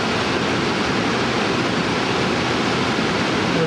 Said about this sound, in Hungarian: azon a folyón van a vízesés